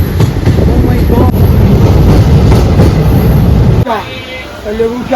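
Train pulling into Katwa station, a loud, close rumble with clattering wheels and rattling carriage noise that suddenly drops away, while people talk over it.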